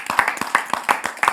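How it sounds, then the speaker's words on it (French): A small audience claps for the technicians at a cultural heritage talk, a short burst of brisk, evenly spaced handclaps close by. "Je vais vous demander d'applaudir les techniciens, s'il vous plaît."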